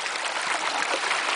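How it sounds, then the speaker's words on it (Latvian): Fast flood water rushing in a river after heavy rain, a loud, steady broadband roar of flowing current heard up close with no voices. "Kāda upe ar tādu baigo straumu."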